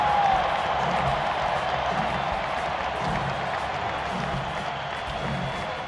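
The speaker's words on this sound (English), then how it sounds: "listen to the rousing ovation from the crowd" Stadium crowd at a 2012 Braves–Cardinals baseball game giving Chipper Jones a rousing ovation before what may be his last career at-bat: a steady, broad roar of cheering and applause throughout, with faint talk over it.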